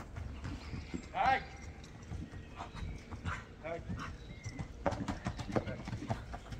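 A horse's hooves clip-clop in an uneven, loose rhythm, moderately close, while people talk throughout and a dog barks briefly in the background.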